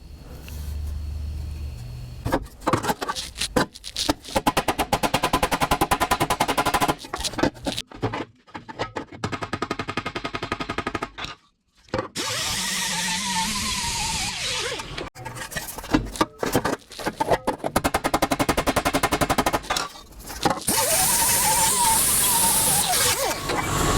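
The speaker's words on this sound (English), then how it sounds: "Now that section's ready for the Scotch-Brite." Scotch-Brite pad spinning on a power tool against a shortened metal 409 valve cover, a loud continuous whirring scrub that rises and falls in pitch, with a couple of brief stops, close and alone.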